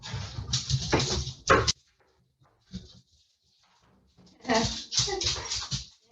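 Puppies at a puppy class whimper and yip in short high-pitched bursts, a busy cluster of cries, then near silence, then another lively round of whines and barks close by.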